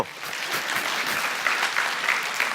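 Church congregation applauds at a service, a dense, steady wash of clapping lasting a couple of seconds with no speech over it.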